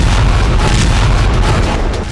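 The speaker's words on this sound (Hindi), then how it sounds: "एक तरफ मॉस्को का आसमान तोपों की गरज से गूंज उठा" A 21-gun artillery salute in Moscow after the presidential inauguration, heard as a loud, continuous, rumbling roar of cannon fire that blurs into a dense wash of booms.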